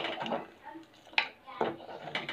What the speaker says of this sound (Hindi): हम इसको ऐसे चलाते रहेंगे बीच बीच में, नहीं तो नीचे लग जाएगी